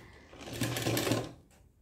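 A sewing machine stitches a fabric seam in a short, close burst of rapid rhythmic whirring lasting about a second, then stops.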